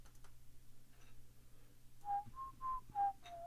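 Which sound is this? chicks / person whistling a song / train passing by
person whistling a song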